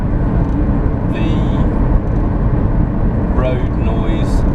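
Steady broadband tyre roar from a Toyota Prius rolling over a coarse, resurfaced tarmac road, with almost no engine noise. The cabin hum stays constant throughout, and brief higher whines rise above it now and then.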